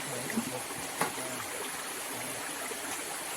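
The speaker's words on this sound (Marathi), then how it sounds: "हे जे पाणी आहे अशा पाण्यातून पाण्याचा स्पीड जास्त असल्यामुळे" A fast-flowing forest stream on a mountainside, where crabs are caught, makes a faint, steady trickling rush with a couple of small splashes.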